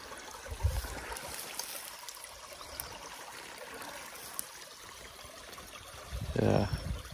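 Water trickles and streams through a removed beaver dam in a clay-banked creek. The flow is a faint, steady rush, with a couple of soft low thumps near the start and the end.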